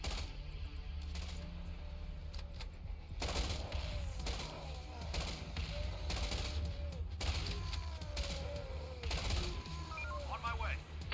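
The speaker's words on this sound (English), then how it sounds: "We'll shoot them up." Rapid bursts of gunfire from Infection Free Zone, a zombie survival strategy game, crackle repeatedly through the clip over continuous game ambience, with someone talking over the action.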